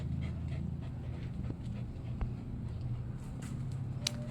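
Puppies pant in quick, light breaths close by, a soft continuous rhythm over a low background hum, with a few faint clicks and whimpers.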